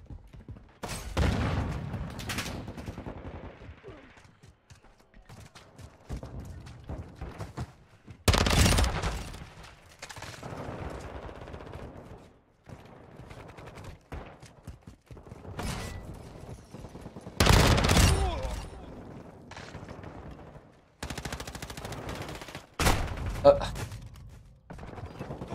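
Video game gunfire, including a marksman rifle, comes in several loud sharp bursts and single cracks spaced irregularly, with quieter mechanical clicks and movement between shots.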